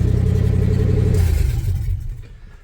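A 1978 Chevrolet K20 truck, left sitting for years, with its engine running loud and rumbling in drive, a steady heavy idle that fades and drops away over the last second.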